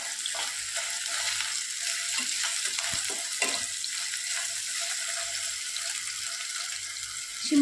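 Potatoes frying in a pan with a pinch of salt for a shimla mirch masala, giving a steady, soft sizzle with faint stirring clicks close by.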